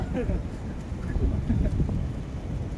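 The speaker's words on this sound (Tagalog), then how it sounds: "Grabe nga hangin ang lakas." Strong wind buffets the microphone outdoors in a low, rumbling roar that stays loud and continuous, with faint voices underneath.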